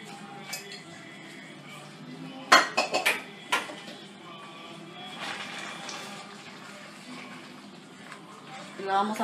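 Beef being added to a pot for red tamales, with a cluster of sharp clinks and clatters of utensils against the pot, close and intermittent, amid a quiet kitchen background with some talking.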